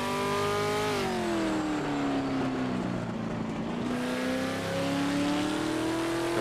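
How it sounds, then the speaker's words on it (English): A Ford GT40 race car in the Project Motor Racing driving game holds a loud, steady engine note that dips and climbs again as the revs change, continuous throughout with no talk. "that engine noise is really loud in these"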